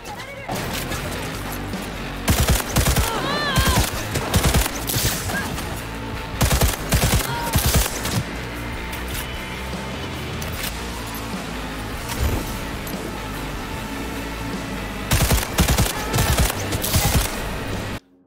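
Smart gun fire in Cyberpunk 2077 comes in several sharp bursts of rapid shots, separated by stretches of quieter game ambience, with a faint voice present at times.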